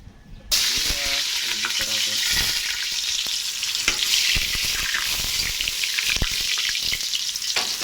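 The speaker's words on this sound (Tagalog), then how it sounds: "Lalagay na natin tong luya natin." Sliced ginger drops into hot cooking oil for kadios baboy langka and bursts into a loud, steady sizzle that runs continuously after a brief quiet start, with occasional stirring clicks close by.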